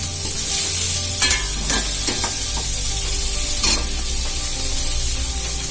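Neatly cut green chillies sizzle loudly in hot oil among onions in a pan for kadalai paruppu sambar, a steady close crackling hiss broken by a few brief spatter pops and a spoon stirring.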